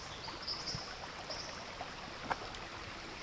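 Water from a stream flows below a bridge in Mount Tamborine National Park, Australia, a quiet steady rush with a few faint splashes and no speech.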